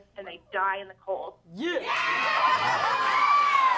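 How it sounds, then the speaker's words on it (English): Studio audience of women bursting into loud cheers and whoops at a comedy talk show, rising sharply after a man's brief spoken line and holding as a dense, bright roar. "Ladies cheering"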